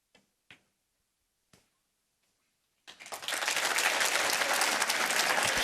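A snooker crowd bursts into applause after a few sharp ball clicks, the clapping swelling quickly and holding steady and full to the end.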